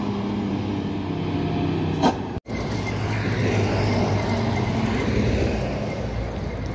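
A Kurnia Trans bus rolls past on a main road in Pulorejo, Purwodadi, Grobogan. A steady engine and tyre drone is broken by a brief dropout, then the roadway rumble builds again as it goes by.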